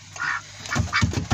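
Three ducks quack in short, close bursts, a few calls spaced over a second or so, loud and alone without talk.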